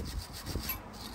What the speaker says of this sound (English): I'm cleaning with the wire brush